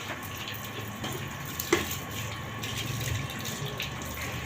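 Drinking water being poured into bottles for storage in a home kitchen, a steady running trickle throughout with a brief clink near the middle, close and moderately loud, no voices.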